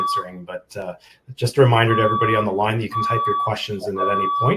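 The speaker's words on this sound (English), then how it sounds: "We do have a fire alarm going off in our office here" An office fire alarm sounds in the background, repeated steady electronic beeps running beneath someone talking continuously on a webinar call.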